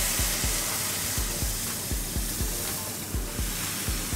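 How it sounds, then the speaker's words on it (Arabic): Cooked lentils hitting hot ghee with golden fried garlic set up a loud, continuous sizzle and hiss, cut by regular soft knocks of a spoon stirring the pan about twice a second. "عندما يتحول الثوم إلى لون ذهبي نضيف العدس المطبوخ على السمن البلدي"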